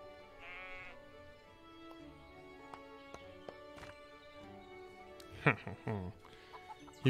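Sheep bleat in the farming video game Everdream Valley over soft background music, several drawn-out wavering calls with chicken-like clucks mixed in, growing louder and more frequent toward the end.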